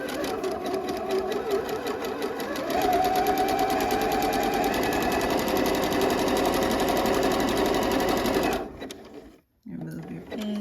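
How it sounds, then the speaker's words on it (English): A home sewing machine stitches forward and then back-stitches a 5/8-inch seam on a mock-neck bell-sleeve fall top, a loud close continuous motor whir that shifts slightly in pitch, then stops abruptly near the end before a brief restart. "we're going to slowly begin to stitch and back stitch"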